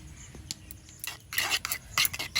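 Yogurt mixed with sugar, salt, chilli powder and turmeric is whisked in a bowl, giving bursts of scraping, clinking strokes that grow busier and louder toward the end, with no talking.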